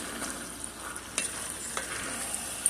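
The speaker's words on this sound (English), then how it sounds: "So now I'm just going to go ahead and add my black beans. I'm going to add juice and all right on in there." Canned black beans with their juice are poured and stirred into a simmering pot of three-bean chili, giving a soft sizzle and wet stirring scrapes with a few sharper clinks, close and fairly quiet.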